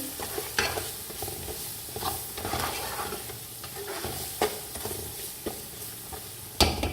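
Ground spices, two tomatoes and whole green chillies cooking in a pan for rice pulao, stirred with a spoon: a soft continuous sizzle broken by irregular scraping and clinks, close but fairly quiet, with no talk.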